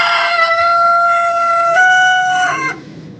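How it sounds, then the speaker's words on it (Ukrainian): A loud, near bird cry with a sustained tonal wail from poultry in a frosty winter farmyard, one long call lasting a few seconds and then dying away. "курочка вон стоїть на одній ніжці мерзне"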